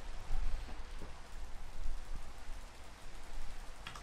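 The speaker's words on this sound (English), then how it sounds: "that's pretty rainy to me" Steady rain falls in a video game world, a soft, even hiss of drops that holds at a moderate level throughout with no voices over it.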